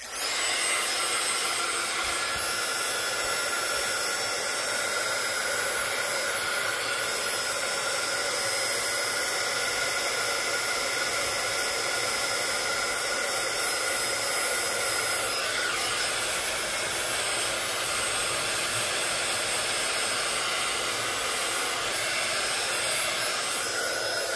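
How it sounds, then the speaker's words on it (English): A heat tool blows continuously while drying a craft MDF tag, giving a loud, even whirring hiss that holds steady from start to finish with no pauses. "So I'm gonna dry this with the heat tool."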